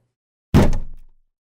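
A single car door slammed shut as a sound-effect source, one heavy close thunk with a short rattling decay, alone and dry.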